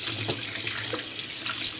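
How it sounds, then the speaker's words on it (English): Tap water runs steadily into a sink while raw chicken is rinsed, a continuous close splashing hiss with no voices. "So next we're going to rinse the chicken,"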